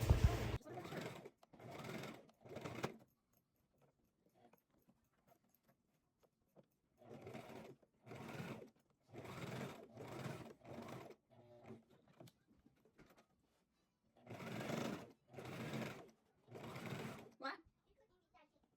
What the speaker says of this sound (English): now I'm going to work my way all the way around using a 1/4 inch seam allowance